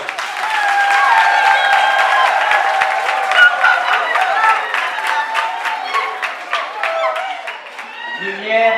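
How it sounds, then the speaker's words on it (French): A church congregation bursts into sustained applause for newly baptized members, steady dense clapping from a crowd that carries on for several seconds before starting to thin out. "Applaudissez pour eux."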